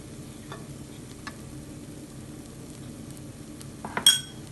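Chole masala powder being stirred into frying ingredients in a pan: a low, steady sizzle with soft scraping strokes and a bright clink of a utensil against the pan near the end.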